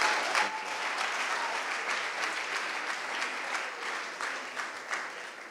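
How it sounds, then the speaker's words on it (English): An audience at a poetry event gives a steady round of applause, dense clapping lasting several seconds at an even level with no speech over it. "another round of applause if you can"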